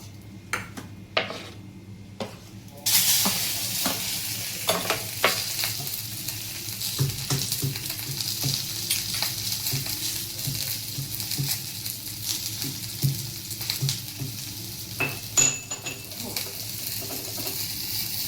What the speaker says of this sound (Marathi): 2-3 छोटे कांदे मी भाजायला ठेवली होती, ती पण आता तेलामध्ये परतून घेणार।